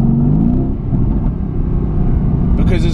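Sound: Mercedes AMG GTS engine revving

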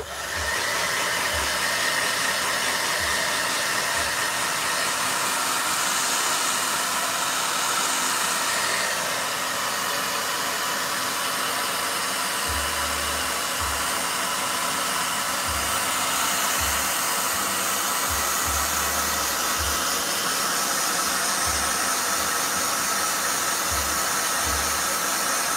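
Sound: blow dryer drying hair

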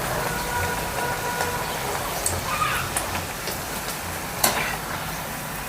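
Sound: food frying in oil on both sides

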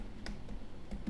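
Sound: typing on a computer keyboard

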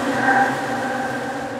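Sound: two combined droning noise elements for video game combat music

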